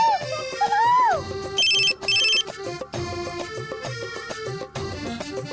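A telephone's melodic electronic ringtone sounds loud and close, repeating its tonal phrase for several seconds in an indoor domestic scene.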